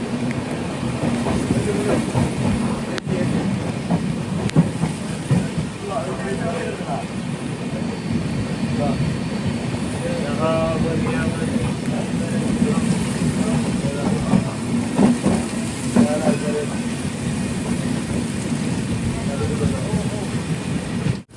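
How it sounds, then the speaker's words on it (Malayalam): The Mangala Lakshadweep Express pulls into Khed station in the rain, a steady broad rumble of wheels and rolling stock lasting throughout, with people talking over it. "ട്രെയിൻ ഇപ്പോൾ കെദ് സ്റ്റേഷനിലേക്ക് ഇതാ എത്തിയിരിക്കുകയാണ്"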